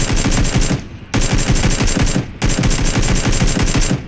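Rapid automatic gunfire in the PUBG Battlegrounds video game rattles in three loud, close bursts separated by short pauses.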